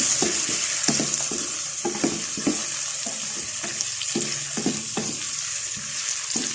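Spices being stirred into macaroni pasta sizzling in a pan, with steady frying hiss and the rhythmic scrape and clack of a spoon against the pan, close and continuous.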